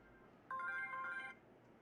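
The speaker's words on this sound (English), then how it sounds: "Freaking phone vibrates so much it shakes the whole damn bed." A mobile phone vibrates on a bed in one buzzing, humming burst lasting under a second, fairly faint and heard alone.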